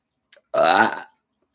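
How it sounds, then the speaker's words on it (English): A single loud, drawn-out human burp lasting about half a second, preceded by a couple of faint small sounds, with no talking around it. "Burping is gross."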